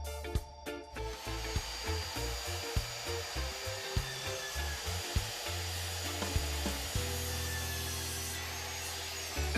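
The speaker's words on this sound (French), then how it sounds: "Dessinez la longueur nécessaire pour les pieds et sciez sur mesure." A hand saw cuts wood to length for planter legs in a rapid, even back-and-forth rhythm of rasping strokes, close and fairly loud, running for several seconds without any voices.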